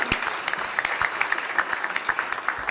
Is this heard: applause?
yes